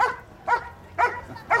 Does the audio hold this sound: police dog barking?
yes